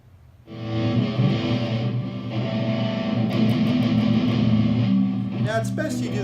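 An electric guitar played through a distortion effect, sustained overdriven notes ringing steadily at moderate loudness for several seconds, with a brief scratchy burst near the end.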